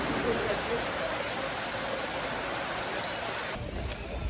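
Steady rain hisses across the whole stretch, an even wash of noise that cuts off abruptly near the end.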